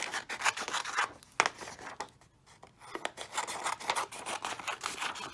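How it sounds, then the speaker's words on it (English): Scissors cut paper into strips along printed lines, close and quiet, with repeated snipping and rustling strokes and a short pause midway. "So first you want to cut it out in strips, cutting along the lines."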